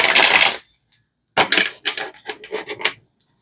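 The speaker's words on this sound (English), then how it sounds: "Let me give it one quick shuffle." Tarot cards being shuffled in two bursts: a dense, loud riffle of cards first, then after a short pause a series of quicker, crisp flicks and slaps of the deck, close up with no talking.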